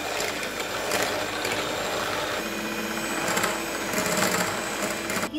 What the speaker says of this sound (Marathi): आता ही व्हिप क्रीम आपण फेटून घेऊ